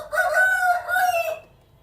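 A hill-country desi rooster crows once loudly and close by, a long rising then sustained call that fades away cleanly.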